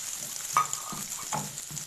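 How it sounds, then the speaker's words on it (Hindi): Chopped medium onion sautéing in a pan over a medium flame, giving a soft, steady sizzle with a few faint stirring scrapes and clicks at close range. "प्याज हमारे सौते हो गए"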